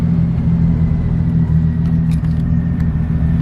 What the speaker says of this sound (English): I'm sorry, everyone on the roads that hears my exhaust